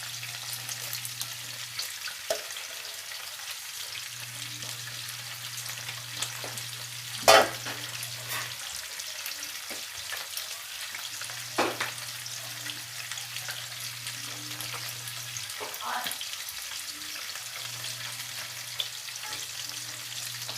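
Ginger, onion and garlic sautéing in a pan, a soft, steady sizzle with occasional clinks of a utensil stirring, and a faint low hum coming and going, no talking.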